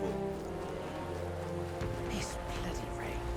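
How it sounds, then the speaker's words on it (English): Steady rain from the video game Metaphor pours as a constant, even hiss that fills the whole clip, with low game music underneath and no clear speech. "This bloody rain."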